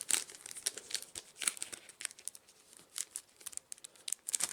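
Plastic wrapping on a Dungeon Drop card game expansion crinkling and tearing in steady, busy bursts close up, with no talking.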